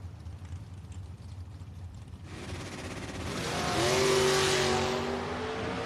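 A first generation Chevrolet Nova and a Mustang launch at a drag race: after a quieter idling stretch, engine noise swells into a loud roar, peaking as the cars pull away.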